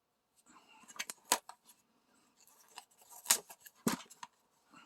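Several crisp snips and snaps of scissors cutting through tape, close by and irregular, with quiet pauses between cuts.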